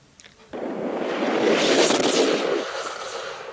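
A reversed whoosh effect, time-stretched in After Effects, swells in abruptly after a short pause, builds into a broad rushing sweep that peaks near the middle, then eases into a sustained airy tail.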